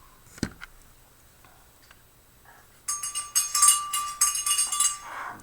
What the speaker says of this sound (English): Sorry about the noise, that's my birds.